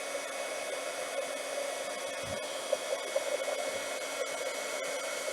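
A handheld heat tool melting embossing powder gives a steady, quiet, fan-like whoosh of blowing hot air, with a few faint clicks and bumps.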